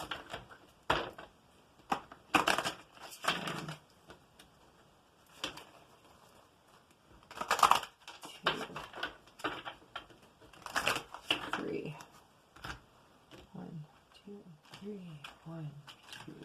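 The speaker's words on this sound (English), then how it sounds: "I'm going to do 3 shuffles" Brisk riffling tarot card shuffles in several quick bursts, close by, with short pauses between and faint movement around them.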